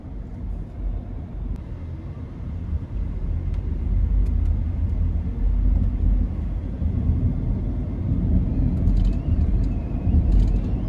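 A 2019 Audi e-tron Quattro Prestige electric car accelerating, heard from inside as a steady low road rumble and tyre noise that swells slightly and holds, with faint whine and ticks on top and no talking.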